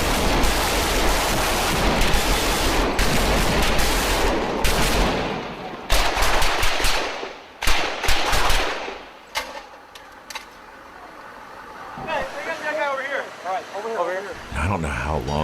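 A Mark 19 automatic grenade launcher fires in bursts of rapid, heavy thumps amid other gunfire during a battle in Fallujah, loud at first, then thinning out as the shooting becomes sparser toward the end.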